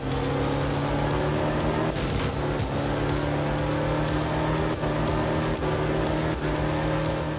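Subaru rally car in the video game Art of Rally, tuned to over 800 horsepower: a loud, continuous engine drone that holds steady and rises in pitch as the throttle changes, with a few brief shifts and gear changes, heard alone.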